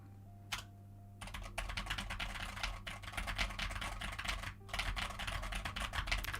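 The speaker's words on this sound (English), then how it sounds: "if I just type something here" Fingers typing on a computer keyboard in quick, continuous clicking runs with one short pause, close up over a low steady hum, and no one speaking.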